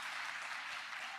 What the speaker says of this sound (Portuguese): Aplaude o Senhor em nome de Jesus.